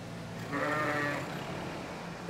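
A single sheep gives one drawn-out, close bleat inside a straw-bedded barn, over a soft steady background hiss, ending with a brief click.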